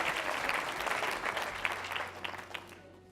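Applause from advocates seated at tables during a Cradle to Career network convening, a dense steady clapping crowd that thins and fades out toward the end.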